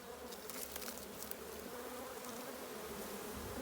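A honeybee swarm fans and buzzes in a dense, continuous drone outdoors near a hive box, steady and faint with no voices.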